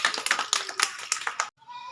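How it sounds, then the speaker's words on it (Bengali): A short burst of hand clapping applauding the winning team in a village party game: quick uneven claps, close and fairly loud, stopping abruptly before a faint tonal sound. "এটি হাততালি"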